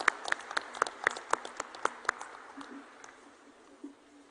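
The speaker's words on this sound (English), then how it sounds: "So I think a round of applause would be appropriate at this time." Sparse, fairly quiet clapping at the Amaravati Drone Summit 2024 inauguration: a handful of distinct claps in an uneven rhythm over the first two seconds, fading into room noise.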